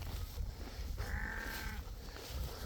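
A sheep lamb gives a single clear bleat lasting about a second, faint and set against steady outdoor background noise.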